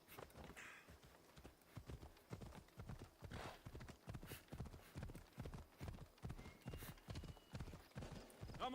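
Horse hooves clip-clopping in Assassin's Creed Odyssey, a steady rhythmic trot of loud, close hoofbeats continuing throughout, with a brief whinny near the start.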